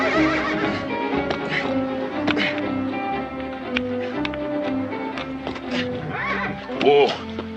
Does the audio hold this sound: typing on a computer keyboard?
no